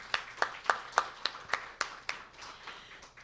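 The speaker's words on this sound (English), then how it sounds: "I want to give him a great round of applause and a thank you" At an annual general meeting, a small audience claps in a brief, sparse burst of about a dozen distinct hand claps that quickly thin out and fade.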